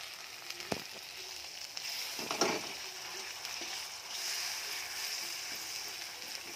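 Chicken frying with turmeric powder in a pan, a quiet steady sizzle with occasional scraping and clacking stirs, fairly faint and without speech.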